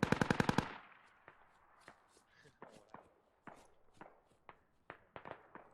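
A rapid burst of video game machine gun fire opens loud and close, then trails into scattered single shots and footsteps over distant background action in a large 40 versus 40 multiplayer battle.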